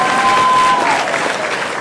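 A large crowd bursts into loud, dense applause at a GIANT felicitation ceremony honouring Helen, Sachin Tendulkar and Anu Malik. A brief high whistle-like tone rides over the clapping at first, and the applause stays strong throughout the short burst.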